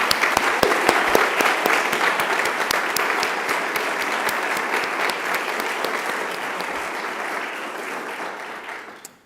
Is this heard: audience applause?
yes